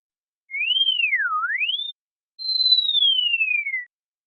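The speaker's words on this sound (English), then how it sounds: "And also some whistling sounds." Two synthetic whistled tones: first a swooping up-down-up glide, then after a short pause a long, steady whistle slowly sliding downward. Clean and isolated.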